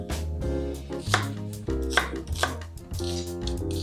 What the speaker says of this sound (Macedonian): Имам еден кромет, ќе го насечкам на коцки.